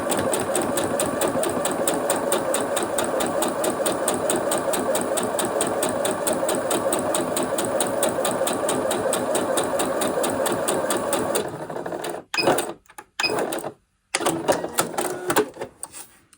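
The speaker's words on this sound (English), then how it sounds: "Now I'm going to start with a couple stitches, and then I'm going to use my back stitch, and that's going to take me all the way to the edge." A domestic sewing machine running a steady, rapid mechanical stitching whir close up, then stopping and restarting in short bursts as it back stitches to the fabric edge.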